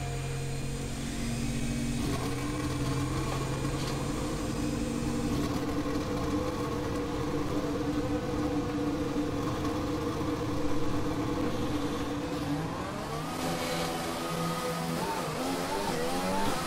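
A Formula 1 race car engine in the F1 2020 video game drives out onto the Austrian circuit during qualifying, with a steady, loud mid-pitched drone that rises into revving toward the end.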